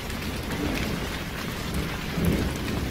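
Steady heavy rain pours in an animated horror scene, with a low continuous thunder rumble beneath it and a brief swell near the end, loud and close with no voices.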